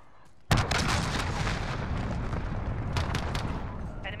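A cruise missile strike in Call of Duty Modern Warfare hits after a short quiet moment with one sudden loud boom, followed by a long, dense roar of rumbling debris and crackle that keeps going.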